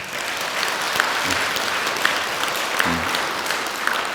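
Steady applause from a congregation at a Sunday Buddhist temple service, offered to encourage the choir, an even wash of clapping with a few louder individual claps standing out.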